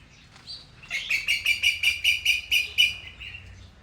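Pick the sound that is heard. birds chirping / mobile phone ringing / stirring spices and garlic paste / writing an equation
birds chirping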